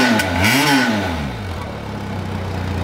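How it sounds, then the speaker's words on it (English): A Benelli TRK 502X adventure motorcycle's engine is revved hard. A loud, close rising and falling rev sweeps up, then drops back to a throbbing idle. "let's rip it little hard and go to the core motorcycling sound"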